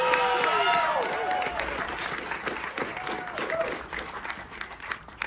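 Audience applause for Ryan Murphy at an interview event for the Menendez Brothers series, a loud, sustained clapping that swells at first and tapers off over several seconds, with voices and cheers mixed in.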